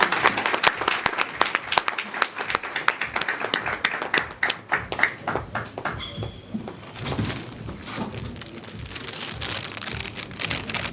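A crowd at a Zanzibar awards ceremony for top science students claps in quick, sharp bursts for several seconds, then the applause thins out to a softer, scattered patter with a murmur of background noise.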